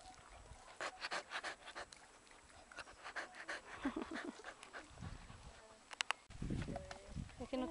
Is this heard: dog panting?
yes